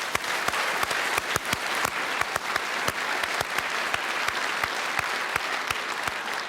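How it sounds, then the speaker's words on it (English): A university audience in Ballarat gives a round of applause, steady dense clapping from many hands with a few sharp, distinct claps standing out near the microphone throughout. "Please give yourselves a quick round of applause."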